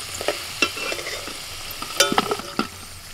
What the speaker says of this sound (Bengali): একটু লবণ আর হলুদ দিয়ে আলুটাও ভেজে নিচ্ছি